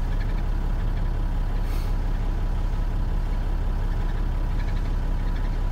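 A Mercedes 814 truck's air compressor pumps air close by as the engine runs, a loud, constant low pulsing drone with steady mechanical chatter and no talking.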